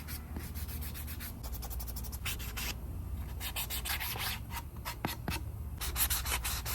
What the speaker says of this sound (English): Just sanding all of this stuff now.